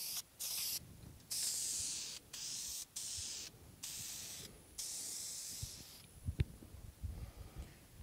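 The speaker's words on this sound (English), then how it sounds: "make sure to wear all proper safety equipment when spraying anything" A spray can lays finish onto a guitar in about seven short, soft hissing bursts separated by brief pauses, with faint handling clicks and knocks toward the end.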